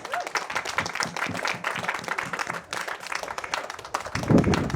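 An audience applauds steadily, a dense wash of many hands clapping that swells slightly near the end.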